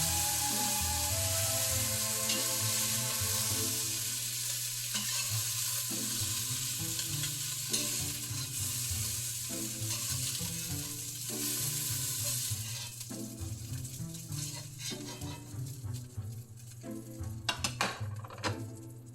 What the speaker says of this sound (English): Reduce your heat to medium-low, and then melt the butter in the pan.